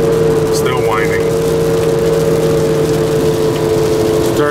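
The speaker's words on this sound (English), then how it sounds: "Engine noise still whining." A car on the highway in Kentucky gives a steady engine whine, a constant tonal drone over road rumble while driving, and a voice talks over it briefly.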